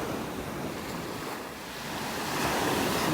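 Big ocean waves pound a beach in North Naples, Florida, a continuous loud roar of surf with wind buffeting the microphone, swelling louder toward the end.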